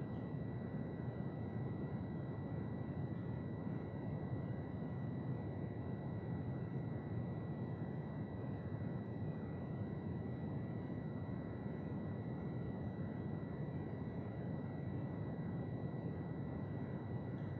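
An FPV quadcopter drone holds a steady, even whine with a constant hum, faint and distant throughout, with no talking.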